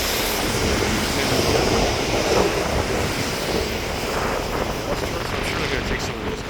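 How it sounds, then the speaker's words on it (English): A CPKC freight rack train passes close by, a continuous heavy rumble and roar of rolling cars that stays steady throughout, with people talking over it. "Oh, rack train now."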